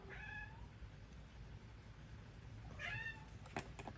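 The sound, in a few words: cat meowing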